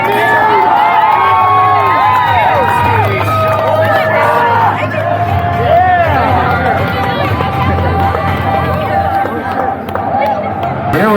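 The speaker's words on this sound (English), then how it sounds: "Come on, raise your hands and scream." At a stunt show at the State Fair of Texas, a large crowd screams and cheers, with many overlapping shrill voices and excited shouts rising and falling in a loud, continuous roar.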